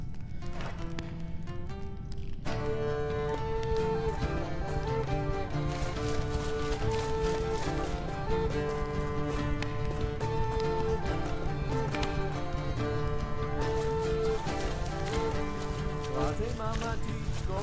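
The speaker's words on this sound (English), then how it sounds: "that's the horse!" Horse hooves clip-clop in a video game, a steady rhythmic trotting that runs continuously beneath loud, sustained music.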